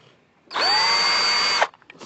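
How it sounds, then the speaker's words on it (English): A power drill drives a screw into wood for a turtle enclosure, one close, loud whine lasting about a second with a brief rise at the start and a drop as it stops. "drill it in. So there's no splintering of the wood as you are screwing the screw in."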